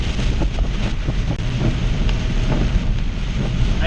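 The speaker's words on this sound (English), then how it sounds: "this is heavy rain, I'm going to stop talking." Heavy rain pours in a steady, dense roar with no pauses, loud and close throughout, mixed with a gusty, windy rush.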